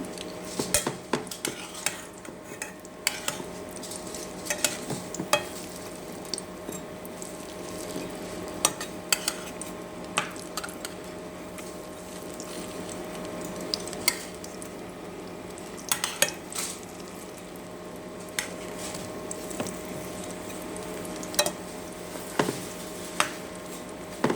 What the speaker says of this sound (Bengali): আমি এখন পাকোড়াগুলোকে উল্টিয়ে দিব